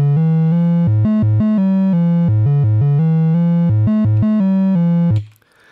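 Modular synthesizer driven by a NerdSEQ sequencer plays a steady, bright, buzzy melodic line of repeated stepped notes, loud and alone, ending abruptly in a short burst of noise.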